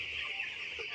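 A flock of fifteen-day-old broiler chicks, a dense, continuous chorus of high peeping calls, steady and moderately loud.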